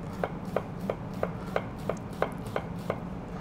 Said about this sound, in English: Gonna do a couple chops in the middle, couple slices.